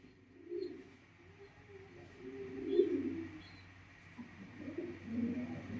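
Pigeons at a pigeon sale coo in soft, low, rolling calls that rise and fall in several overlapping bouts, nearby but gentle, against a faint steady background hum.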